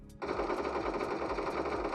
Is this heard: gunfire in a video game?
yes